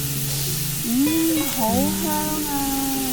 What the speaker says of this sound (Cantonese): 將頭先切好嘅蒜蓉倒埋落嚟。 我要將啲蒜蓉呢炸到好香嘅